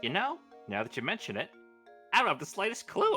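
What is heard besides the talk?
No everyday noise stands out behind the speech.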